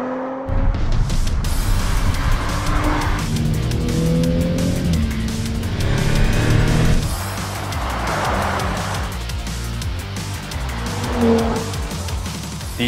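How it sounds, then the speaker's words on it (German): A 2018 Audi RS4 Avant with the RS exhaust system, driven hard with loud engine roars, gear changes and tyre squeal, rising and falling through repeated accelerations close by. "Schwarz bedeutet RS-Abgasanlage hier ganz typisch und die klingt auch richtig gut."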